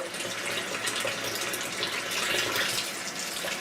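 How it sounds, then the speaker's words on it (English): Cool tap water runs steadily over smoked ham hocks in a kitchen sink, a close, continuous splashing gush with slight fluctuations as the meat is rinsed. "You want to rinse them off with cool water."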